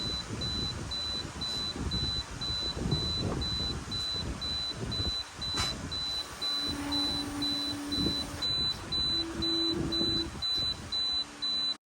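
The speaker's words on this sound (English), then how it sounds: "the flame detector shuts down the machine, emits an alarm, and sends the laser head back to home position" Flame detector on an ATEZR L2 24W laser engraver trips, sounding a steady train of high electronic beeps, loud and close, over a constant machine hum with a brief motor whir as the laser head returns home.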